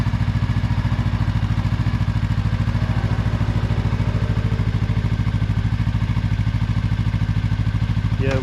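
A Honda Rebel CMX 1100 motorcycle engine runs with a steady, loud low idle throb throughout, its even pulsing rhythm unbroken from start to finish, with no talk over it.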